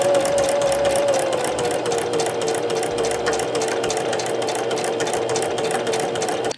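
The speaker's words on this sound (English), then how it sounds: "And then sew along one edge, and then I'm going to connect it and make it one long piece." A sewing machine runs steadily, stitching the hem pieces of a tank top together along one edge with a fast, even mechanical whir that stays close and loud throughout, with no voices.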